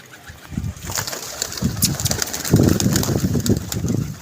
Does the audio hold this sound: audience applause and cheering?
no